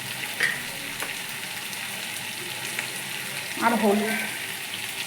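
Mutton curry with spices frying in a pan gives a steady sizzle throughout, with a louder burst of stirring or added ingredients near the end and a short spoken word early on.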